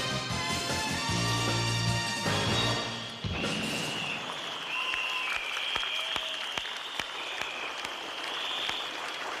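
An audience at the 1989 TVB New Talent Singing Awards final applauds, loud sustained clapping that rises after a musical fanfare ends, continuing steadily across the hall.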